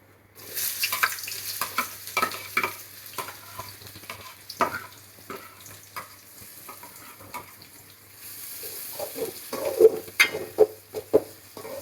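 Onions fry in oil for biryani while a spoon stirs and scrapes the pot, giving irregular scraping knocks over a steady close sizzle.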